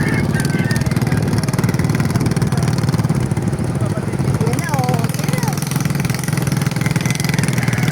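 A motorcycle engine drones loud and steady nearby on Pamilacan Island, Bohol, holding an even idling rumble throughout while someone talks over it.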